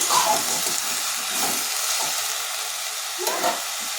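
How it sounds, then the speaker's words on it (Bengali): Onion greens curry with turmeric and salt being stirred in a hot pan, a close sizzling hiss with bursts of scraping and spatter as the spoon moves through it. "এখন এর মধ্যে একটু নুন দেব ভালো করে মিশিয়ে নেব"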